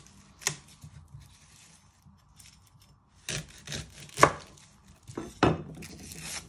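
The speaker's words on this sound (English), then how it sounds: "You first want to chop both of the ends off." Sharp knife chops through the ends of a shallot on a cutting board, a few separate crisp thuds spaced over several seconds, close and clear with no talking.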